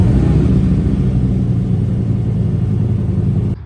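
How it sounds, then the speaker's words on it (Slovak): Škoda Kodiaq RS with a stock 2.0 TSI petrol engine and active exhaust flaps, giving a steady, loud, close low rumble that holds evenly for a few seconds before cutting off abruptly near the end. "počúvaj, ako znie nový Kodiaq RS."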